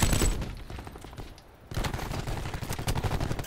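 Rapid gunfire bursts from a Call of Duty Black Ops 4 hardpoint match, loud and dense at first, then a brief lull before sustained automatic fire resumes close up.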